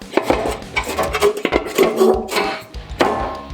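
A destroyed Harley-Davidson FXR fender is struck against a dolly beneath it, giving a run of sharp metallic knocks at an uneven pace, close and fairly loud, with no talk.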